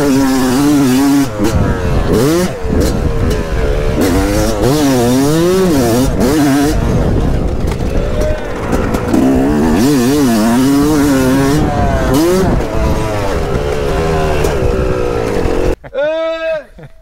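Motocross bike on a training track, its engine revving and shifting pitch continuously as the rider works corners, loud and close throughout, cutting off sharply near the end.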